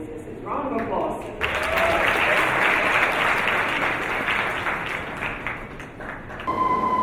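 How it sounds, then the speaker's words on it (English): An audience at an awards evening breaks into sustained applause after a speaker's brief introduction; the clapping swells loud for several seconds, then fades as a voice resumes talking. "Round of applause."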